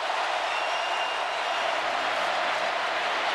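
Stadium crowd of 87,000 at an Alabama college football game, a broad steady roar of noise with no distinct cheers or claps, continuous and distant-sounding.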